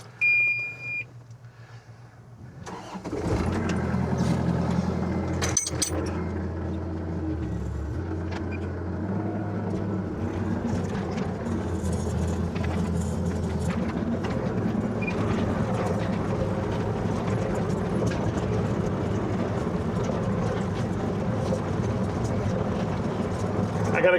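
A tracked excavator crosses a field toward a dead tree, its diesel engine droning loud and steady with low rumbling tones, after a few seconds of quiet and an electronic beep at the start.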